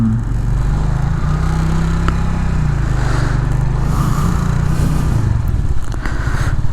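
A Suzuki Skywave 125 scooter rides off on a wet road, its engine a steady low drone with tyre hiss and wind rumble, loud and close throughout.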